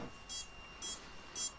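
A drone controller gives three short electronic beeps, evenly spaced and faint, over a quiet background hum after a setting is switched.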